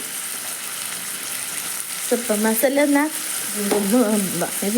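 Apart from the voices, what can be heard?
tempering of oil, cumin, mustard seeds and garlic sizzling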